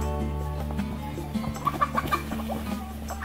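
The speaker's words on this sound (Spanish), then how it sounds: "¡Dejen los pollos, hombre!" Chickens cluck in a cluster of short, sharp calls in the second half, over a steady low hum, with no talk heard.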